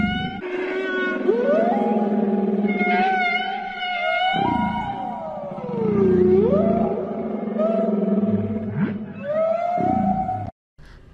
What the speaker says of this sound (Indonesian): Paus dikenal karena nyanyian mereka.